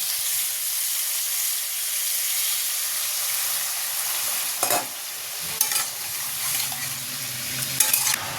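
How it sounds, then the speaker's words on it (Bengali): Prawn malai curry gravy with salt, Kashmiri red chilli powder and water bubbles and boils in a pan, a steady close hiss and sizzle broken by a few soft clinks, with no talking. "ঝোলটা টকবক করে ফুটছে"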